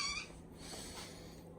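A cat gives a single short meow right at the start, close by, followed by soft breathy room noise.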